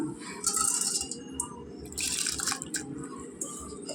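Soaked rice grains pour and patter into bubbling water in a pot, a close, steady rattling hiss over the low simmer.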